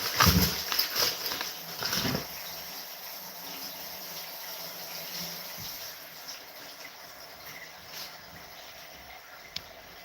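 Food is rinsed under a running kitchen tap during dinner prep, a soft steady stream of water with a couple of louder splashy bursts at the start, then a low continuous trickle.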